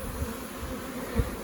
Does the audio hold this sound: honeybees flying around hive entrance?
yes